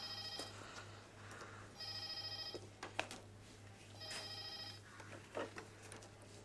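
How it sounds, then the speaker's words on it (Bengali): A telephone rings in two-part electronic bursts that repeat at regular intervals, clear but fairly soft indoors over a low steady hum, with no talking. "দেখুন তো কার ফোন।"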